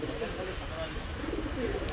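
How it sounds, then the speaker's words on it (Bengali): A male Mysore pigeon of old bloodline coos among other birds at a Khulna pigeon market, a soft low cooing under steady crowd chatter and voices throughout. "কবুতরটা খুব ঘনবাজির কবুতর, মহীশূর নর"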